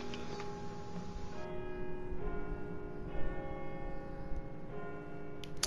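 Church-style bell tolls repeatedly inside a Roblox horror game, each strike leaving long ringing tones that stack over a steady game ambience, loud and close throughout.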